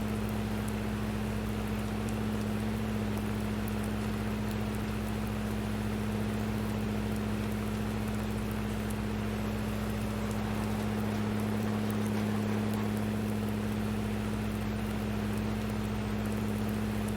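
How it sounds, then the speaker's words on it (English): Steady rain falling in the video game Farming Simulator 19 on South Island Farm, a constant even hiss with a low hum underneath that carries on unbroken for about seventeen seconds, with no talking. "It rains here a lot."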